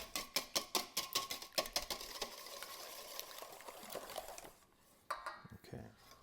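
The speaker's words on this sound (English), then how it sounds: "And we're just going to take a whisk" Rapid whisking of an egg mixture with Dijon mustard and ground nutmeg in a bowl, a quick run of sharp metallic clicks that settles into softer stirring, close and fairly faint.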